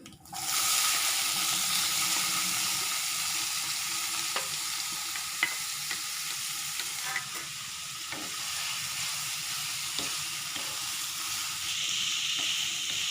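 Beetroot sautéing in oil with mustard seeds and urad dal in a pan, a steady, close sizzle and fry hiss with occasional stirring clicks, running alone for the whole stretch.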